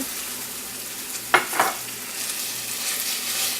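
Cubed Philadelphia cream cheese is stirred with garlic in a hot pan, with a low background sizzle and a couple of brief scraping stirs near the middle.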